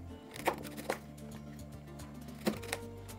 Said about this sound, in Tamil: இதே மாதிரி எல்லா முருங்கைக்காயும் நம்ம கட் பண்ணி எடுத்துக்கலாம்.